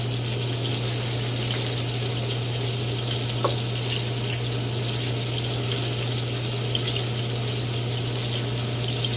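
Plantain fritter batter frying in hot oil, a steady, even sizzle that holds at moderate loudness throughout with no voices.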